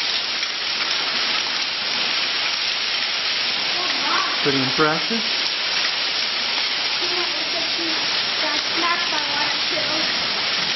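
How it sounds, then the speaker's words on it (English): Hail and rain pour down in a steady hiss during an April hailstorm, a dense, continuous rush heard up close, while a person briefly speaks over it. "a little bit of hail today, some rain, unusual this time of year"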